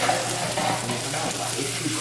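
French toast frying in a pan makes a soft, steady sizzle with faint crackling, close and continuous, with no one talking.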